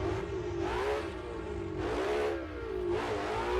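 A Ford GT350R Mustang's small-block V8 revs in the Assetto Corsa racing game, loud and continuous, its pitch climbing and dipping in several repeated surges as the throttle is worked.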